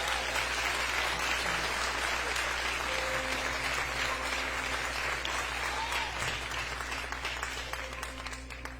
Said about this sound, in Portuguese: Eu queria que você desse uma linda salva de palmas para Jesus aqui